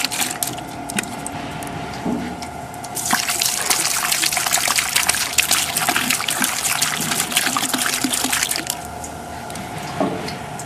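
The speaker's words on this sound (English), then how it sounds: "So simply pour some xylene in the A side and the B side." Xylene cleaning solvent is poured into a tank in a steady, gushing liquid stream that grows louder partway through and then eases off, with no talk over it.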